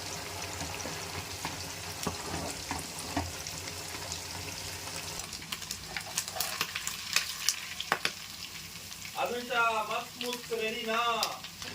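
Chicken pieces frying in hot oil in a pan, with a steady sizzle and intermittent stirring clatter throughout, and a voice speaking over the cooking near the end.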